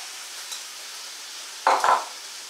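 Leftover cheesy tomato pasta sauce hits a hot Copper Chef 10-inch frying pan, giving a short, loud burst of sizzling that rises from a steady background hiss and fades within half a second.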